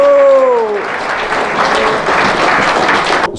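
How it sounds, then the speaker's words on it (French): A church congregation applauds the Lord during a French-language sermon, a dense, steady wash of clapping that fills the whole stretch and cuts off abruptly near the end. "Est-ce qu'on peut applaudir le Seigneur?"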